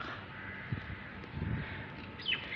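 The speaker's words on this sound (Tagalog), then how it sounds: "Mga wakwak na sila, mga uwak." Crows caw a few times at a distance, separate calls spaced about a second apart over a soft background hum.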